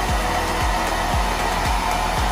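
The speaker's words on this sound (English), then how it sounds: "my blower is so small because I'm not really using blower once in a while only" A small, low-power hair blower runs steadily with a constant airy whoosh and hum, close and continuous throughout, with faint low rhythmic pulses underneath.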